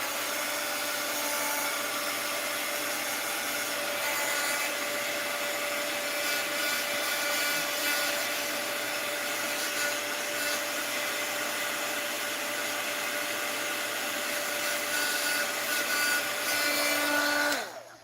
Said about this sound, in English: Let's hit it with the heat gun again.